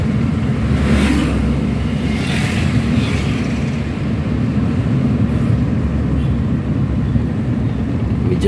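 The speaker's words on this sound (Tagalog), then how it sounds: "Medyo traffic na ngayon mga lods." Road traffic in Iligan City: a continuous loud rumble of engines with vehicles passing close by, swells of passing cars rising and falling over a constant low drone.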